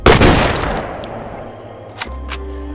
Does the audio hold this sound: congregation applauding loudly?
no